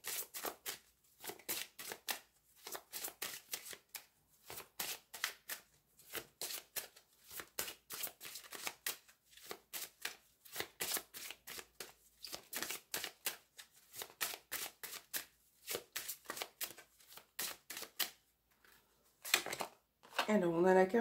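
Petit Lenormand cards being shuffled and laid out, a long run of quick crisp riffling and snapping flicks with brief pauses, close and fairly quiet, ending with a short burst of handling noise.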